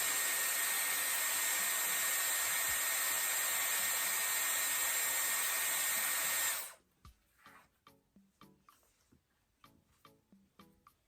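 A Dyson Airwrap hair styler blows air in a loud, steady rush for about seven seconds and then cuts off. Quiet handling noises follow.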